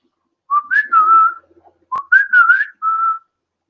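A person whistles to call a pet bird back, two short bursts of rising and warbling whistles separated by a brief pause, loud and close, with no other sounds.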